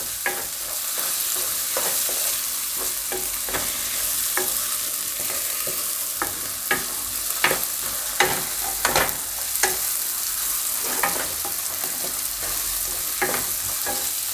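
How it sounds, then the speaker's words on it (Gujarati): Onions frying in oil in a pan for a Gujarati mixed vegetable curry, a steady close sizzle broken by frequent sharp scraping and stirring clicks from a spoon, with no talk. "બધું આપણે મિક્સ કરીને ડુંગળીને થોડીક વાર આમાં તેલમાં"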